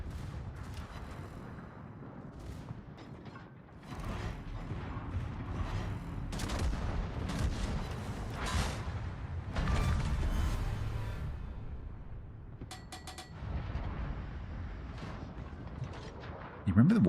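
Naval gunfire in the warship battle game World of Warships: heavy booming salvos and rumbling blasts fire repeatedly across a dense, continuous mix of game combat sounds, loud and close throughout.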